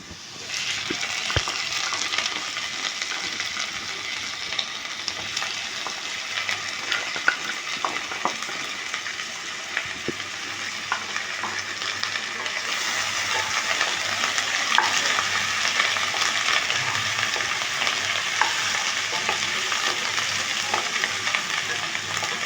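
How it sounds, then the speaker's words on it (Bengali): Crushed ginger, garlic and chilli fry in a pan for banana flower curry, a steady close sizzle broken by sparse clinks and scrapes of stirring, with no talk. "আদা রসুন লঙ্কা এটা ছেঁচে নিয়েছি এটা দিয়ে দিচ্ছি এবার"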